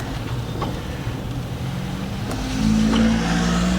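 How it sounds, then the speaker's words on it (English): A Mercury Sable's engine runs loud and steady from inside the car, its tone climbing to the rev limiter around the middle, then settling into a lower, sustained drone after the shift. "It's like it got up there, hit its rev limiter, and decided that it was going to shift"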